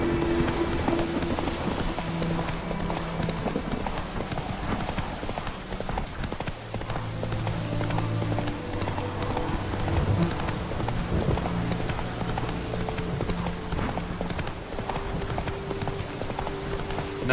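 Roach, a horse in The Witcher 3 video game, trots with a steady, close clip-clop of hooves that runs throughout over a soft ambient bed, with a brief line of speech and faint rain-like texture.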